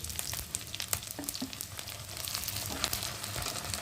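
Onions frying in a pan with cumin paste, ginger paste and mustard added, giving a steady, close sizzle with faint crackles and a few soft clicks, no voices.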